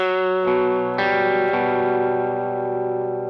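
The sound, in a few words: electric guitar notes with effects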